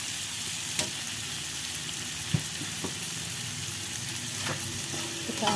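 Tempeh and sliced tomato being stirred into a Sundanese-style stir-fry in a hot pan, a constant bright sizzle with a few scraping knocks of the spatula, no talking.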